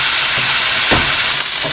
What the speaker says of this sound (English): I've got my heat up nice and high, and you keep on working it so that the meat breaks up as it's cooking